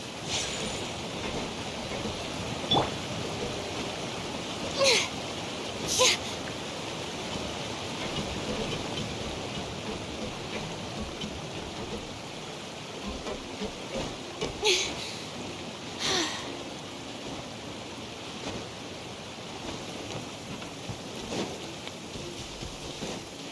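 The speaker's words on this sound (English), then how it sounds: "Let us find shelter from the rain." Steady rain ambience from the video game Genshin Impact: a dense, even wash of falling rain with a few brief brighter patters and splashes rising above it, continuous and unbroken throughout.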